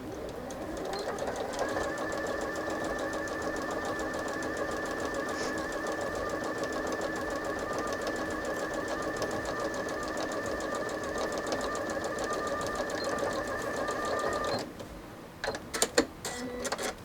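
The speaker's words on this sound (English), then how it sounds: "we're going to sew at 5/8 of an inch seam allowance" A sewing machine stitches a 5/8 inch seam on a McCall's M8091 bodice piece, with a steady mechanical whir and needle hum running evenly for about fourteen seconds, followed by a few short clicks and taps as it stops.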